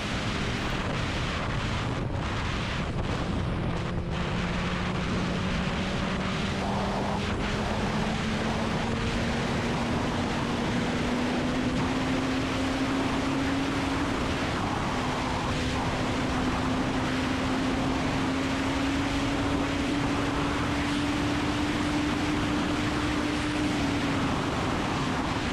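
Yamaha FZ1 1000cc motorcycle accelerating hard to high speed, its engine note climbing steadily in pitch over a long pull, heavily masked by loud, continuous wind roar across the microphone with no talking.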